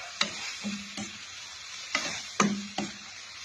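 Chili and garlic being stir-fried for a basil stir-fry, with a soft sizzle under scattered sharp clicks of a utensil knocking and scraping against the pan, close and fairly quiet.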